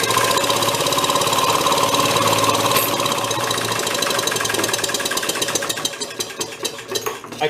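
An old Maytag 92 hit-and-miss engine from a flea market running with a rapid, rattling, knocking pulse, loud and close, then firing becoming more uneven and spaced out toward the end.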